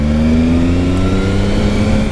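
A Triumph Sprint sport motorcycle's big engine drones steadily at close range, a loud, continuous mechanical hum with a constant pitch and no voices.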